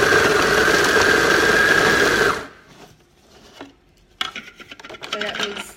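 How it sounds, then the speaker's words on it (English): A small kitchen blender mincing raw chicken runs loud and steady for about two seconds, then stops; quieter clatter and handling noises follow. "so I've put my chicken to blend it into this little machine that I have"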